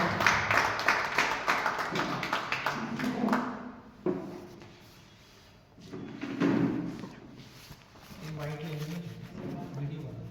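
A scattered round of welcoming claps at a special meeting of journalists in Jaipur, Rajasthan, arriving in a few bursts with pauses between them. People talk throughout, over the clapping and in the gaps.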